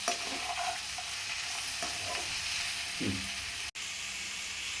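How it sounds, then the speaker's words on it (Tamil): Onions and tomatoes sautéing in a hot pan for a kurma, with a steady close sizzle and a few scraping stirs, then a brief dropout before the frying hiss resumes. "வெங்காயம் தக்காளி நல்லா வதங்கணும்."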